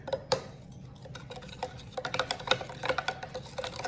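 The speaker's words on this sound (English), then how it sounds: "gonna give that a little stir" A spoon stirs vitamin C serum ingredients in a small container, making quick clinking and ticking taps against the sides in an irregular run of close, bright knocks.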